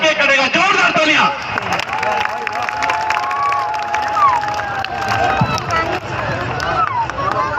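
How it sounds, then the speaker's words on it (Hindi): A crowd cheering and clapping at an outdoor birthday celebration in Agra, a continuous loud wash of applause and shouts with children's voices, with someone talking over it. "जोरदार तालियां"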